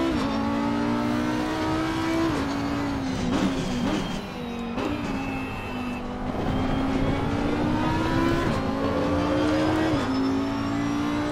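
An Audi R8 race car in ACC laps Imola with a loud, continuous engine drone, climbing in pitch through each gear and dropping at the shifts, close and steady with no talking.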